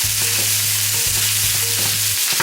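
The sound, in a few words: chorizo sausage frying in a pan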